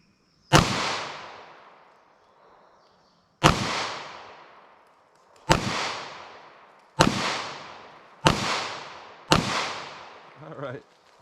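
Six sharp 9mm handgun shots from a Ruger Security 9 with a 4-inch barrel ring out at an outdoor range, each loud crack trailing into a decaying echo, spaced unevenly with the last four coming faster.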